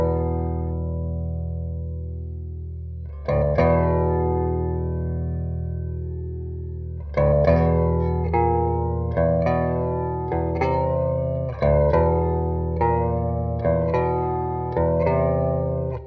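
An electric guitar plays sustained chords with effects in a clean tone, then turns gritty and distorted as strums repeat in a steady rhythm.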